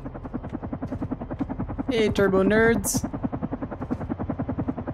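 A rhythmic helicopter rotor chop from the video game Carrion pulses steadily throughout, fairly loud, while someone speaks briefly over it partway through.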